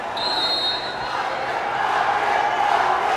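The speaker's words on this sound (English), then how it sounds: "These drums are getting this crowd crazy." Loud crowd at a professional volleyball league match, roaring continuously with drums pounding inside a packed arena, a dense wall of noise with no break.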